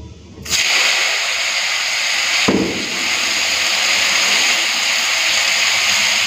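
Tomatoes drop into hot mustard oil with dry red chillies and mustard seeds, setting off a sudden loud, crackling hiss that holds as a steady close sizzle, with a brief extra burst partway through.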